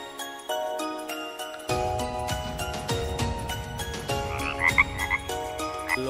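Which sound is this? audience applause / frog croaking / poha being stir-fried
frog croaking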